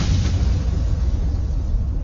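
Explosion from Zuko's failed lightning bending in Avatar: The Last Airbender, a loud, sustained low roaring blast that fills the whole moment with dense rumbling noise and no voices.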